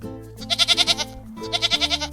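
A voice imitates a goat's bleat while reading a children's picture book aloud, two loud quavering bleats in a row with a brief gap between them.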